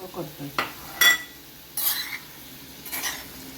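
A small spoon scrapes and taps in a pan while delicate bombil fish cooks gently over a low flame, giving a few short metallic clinks and stirring scrapes over a soft sizzle.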